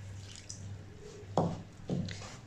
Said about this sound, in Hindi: थोड़ा सा पानी और डालेंगे हम